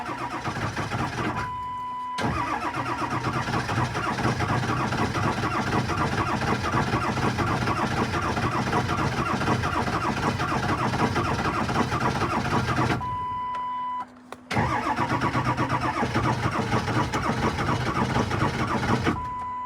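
A 7.3 Powerstroke diesel truck engine with 160,000 miles cranks long and hard without catching, a steady churning grind that pauses briefly twice before starting again.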